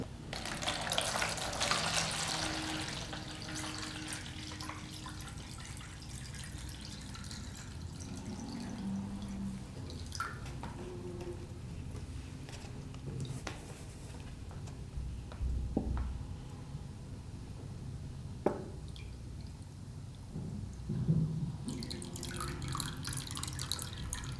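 Water is emptied out and drips steadily nearby, a continuous wet hiss and trickle with scattered drops and occasional louder splashes running throughout.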